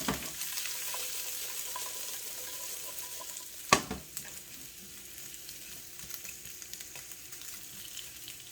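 Onions frying in a pan give a steady, close crackling sizzle throughout, broken by one sharp utensil clack midway.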